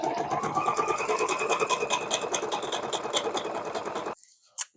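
A domestic sewing machine runs a quilting test seam, a steady close whirring stitch rhythm for about four seconds that stops abruptly, followed by a brief faint click.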